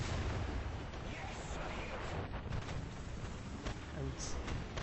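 Tank cannon fire in the War Thunder game, a Sherman M4A3 (76mm) or Chi-Ri II battle, comes as dull booming shots over a steady rumble of engine and battle noise, with talk running through.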